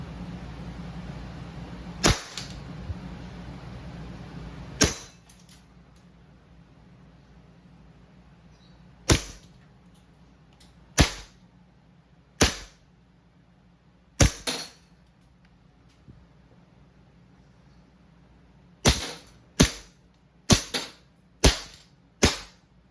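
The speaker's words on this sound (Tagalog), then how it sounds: "M92 silver. All metal. Firing." A WE M92 silver full-metal gas blowback airsoft pistol fires about a dozen sharp, snappy cracks, singly and in quick clusters, with quiet gaps between them and no talking.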